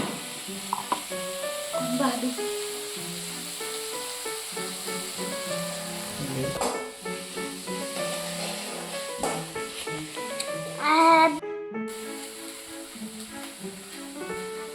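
Garlic and coconut sizzle in a pan on a home stove, a hissing fry under steady tonal background sound, with a brief louder flare of spattering near the end.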